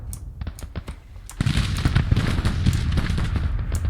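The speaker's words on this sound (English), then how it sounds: "We'll see how well these Sharps rifles do." Sharps rifle volleys crackle in a Grand Tactician Civil War battle, sharp separate cracks giving way after about a second and a half to dense, continuous rattling musketry and rumble, loud and sustained with no talking.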